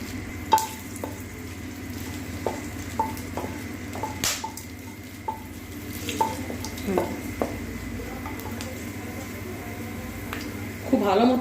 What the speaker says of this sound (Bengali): ভাজা হয়ে গেছে তেজপাতা শুকনো লঙ্কা গোটা গরম মশলা